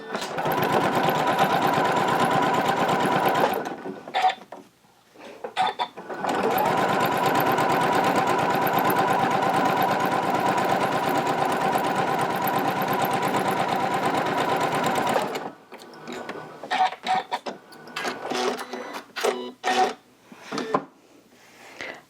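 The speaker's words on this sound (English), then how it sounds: "that needle is going to go right through the hole in the foot, giving me a really close to the edge stitch" Janome CM17 sewing machine stitching right at the fabric edge: a loud, steady mechanical whir running for several seconds, a short stop, a longer stretch, then intermittent clicks and handling.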